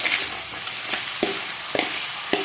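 Crab pieces dropping into a hot pan of curry base with tomatoes, giving a steady sizzle broken by sharp clacks of a spoon stirring against the pan.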